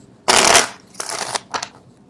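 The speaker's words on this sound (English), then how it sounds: "I don't know why people like to see the card shuffle live" Tarot cards are shuffled by hand in three bursts, a long loud riffle followed by two shorter, softer flutters, close and with no speech.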